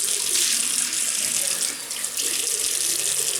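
A bathroom tap runs steadily into a sink while someone rinses off after a wet shave, a loud, close, continuous hiss of flowing water with a brief dip where the stream is interrupted.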